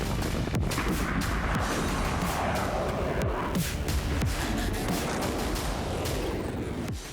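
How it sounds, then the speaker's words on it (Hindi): A huge blast tears apart a large warship at sea, heard as a loud, continuous roar of explosions and rumbling booms with sharp cracks throughout, filling the whole stretch. "समंदर में जोरदार धमाके के साथ युद्धपोत के परखच्चे उड़ गए"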